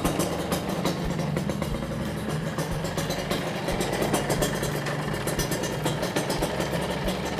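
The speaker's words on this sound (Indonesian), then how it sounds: "kita coba hidupkan motornya bro" A Kawasaki Ninja RR motorcycle, fitted with a GSX speedometer, starts and settles into a steady idle, its engine running loud and close with an even, continuous rumble throughout and no talking.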